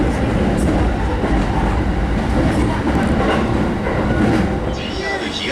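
A train in Hinohara, Japan rumbles loudly and continuously close by, with rolling wheel clatter throughout and a faint squeal near the end.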